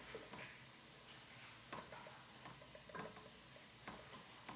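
Onions fry in a pan for chana biryani, a soft steady sizzle with occasional scraping stirs, faint and close, with no talking.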